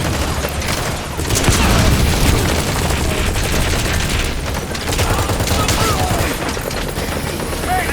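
Sustained automatic gunfire laying down helicopter cover fire in Metal Gear Solid V: a dense, loud, continuous fusillade of rapid shots and booms lasting the whole stretch, with battle noise layered underneath.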